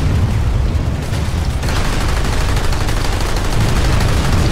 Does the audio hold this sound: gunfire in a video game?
yes